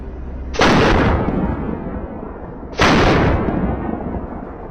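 Two loud, sharp gunshots crack out about two seconds apart during a wild boar hunt in a wheat field on a farm, each blast decaying into a long rumbling tail.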